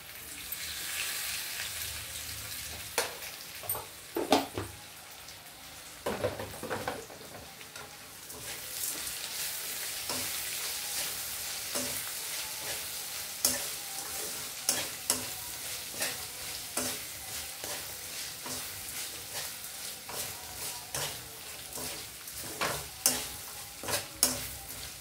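Brinjal chutney with rock salt stirred and fried in a pan, a soft continuous sizzle broken by repeated sharp scraping and clacking stirs at an uneven pace.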